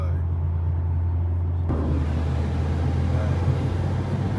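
A 2022 Mercedes-Benz CLA45 AMG cruising on the road, steady low engine drone and road rumble heard from inside the cabin, with the tone thickening midway as the car pulls on.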